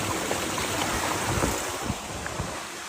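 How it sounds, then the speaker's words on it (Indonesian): Rushing stream water flows steadily nearby near a waterfall on Mount Seulawah, Aceh, a broad continuous wash with some wind noise. "kami telah bertemu dengan aliran air, yang berarti sudah dekat dengan air terjun"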